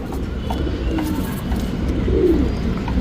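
A racing pigeon coos softly, two low rolling calls over a steady, muffled background rumble.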